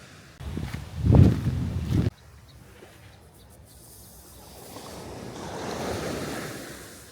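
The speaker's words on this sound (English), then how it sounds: "The sound of the ocean is just so soothing." Ocean waves washing onto a beach, a soft surge of surf rising and receding, with a brief louder burst of wind buffeting the microphone early on and no talking.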